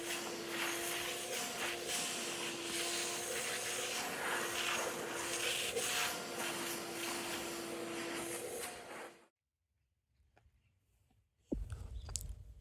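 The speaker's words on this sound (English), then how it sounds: "I do this by using a vacuum to help suck up those particles before I lay on my epoxy." A shop vacuum sucks up sanding particles from a canoe hull as it is prepped for epoxy near a skid plate, a loud steady whining roar lasting about nine seconds before cutting off, with brief rustling and a short burst near the end.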